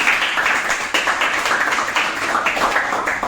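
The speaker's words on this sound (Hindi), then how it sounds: "तालियां हो जाए इनके लिए" Audience applause for the winner of a live girls' leadership and motivational skills performance test, a dense, steady wash of many hands clapping across the whole stretch, loud and close, with no speech over it.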